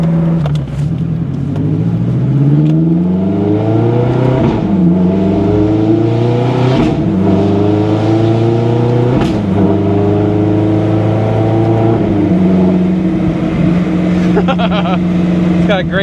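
A 2007 Ferrari F430 Spider revs hard, its engine note climbing and falling in repeated sweeping pulls with pops, loud and close, with voices talking over it.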